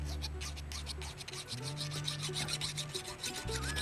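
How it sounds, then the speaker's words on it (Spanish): Hand file rasping along the freshly cut edge of a stainless steel sheet, a steady scraping stroke repeated close up with a gritty, continuous texture and no talking. "Ahora vamos a sacarle los filos del corte con la lima"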